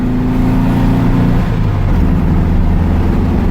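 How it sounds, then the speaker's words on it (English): A 1962 Volkswagen Beetle accelerates hard, its air-cooled engine droning loud and close, with the pitch of the engine harmonics rising and shifting as it picks up speed. "I'm gonna really accelerate now"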